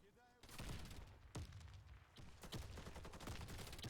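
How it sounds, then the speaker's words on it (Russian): Rapid gunfire from a multiplayer shooter game, dense bursts of automatic shots cracking repeatedly over several seconds, loud and continuous with sharp individual reports; no speech is heard. "как они стреляют"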